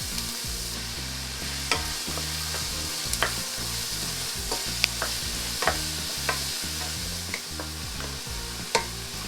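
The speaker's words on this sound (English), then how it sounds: "So olive oil, and a lot of olive oil for tomato sauce. Onion and garlic in." Onion and garlic sizzle steadily in plenty of olive oil for tomato sauce, a close, even frying hiss broken by small pops and the occasional scrape of stirring.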